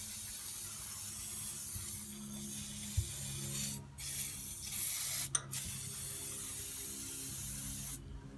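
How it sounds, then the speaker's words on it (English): Aerosol of counterfeit WD-40 sprayed onto the threaded rod of a garage door spring, with a few short hissing bursts, roughly one near 4 s and another near 5.3 s, close by against low background noise; no talking. "I'm going to spray the thread up down there with a bit of counterfeit WD-40"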